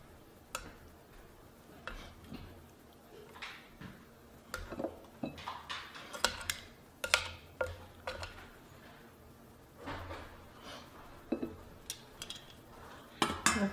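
Chicken wings being tossed in sauce and plated, with scattered clinks and knocks of utensils against bowls and plates, irregular and fairly close, no talking.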